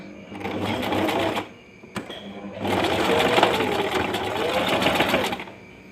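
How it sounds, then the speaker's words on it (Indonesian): Sewing machine stitching the sleeve of a lace outer garment, running in two steady whirring bursts with a short pause between them, close and fairly loud. "Lanjut kita jahit lengannya."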